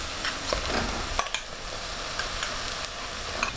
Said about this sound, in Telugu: కొబ్బరి తురుము వేసిన తర్వాత స్టవ్ లో ఫ్లేమ్లో పెట్టుకొని కొబ్బరి తురుము ఫ్రై అయ్యే వరకు ఉంచుకోవాలి